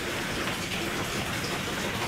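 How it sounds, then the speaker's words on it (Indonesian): Steady rain pours outdoors in a natural setting, a dense, even hiss of drops close by that holds without pause and has no talk over it. "Lagi hujan ya, lagi hujan"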